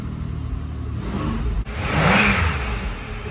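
A race car being prepped for a 24 Hours of Lemons endurance race idles loudly, then after a brief cut its engine surges and revs up close, with a whooshing rise and a steady roar.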